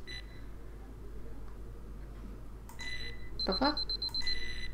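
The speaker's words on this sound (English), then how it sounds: "Oh, I think that's what that buzzer means. My shift's up." A shift-end buzzer sounds in the video game Hell's Pharma, a short run of sharp electronic beeps near the end over a low hum, with a brief spoken exclamation just before.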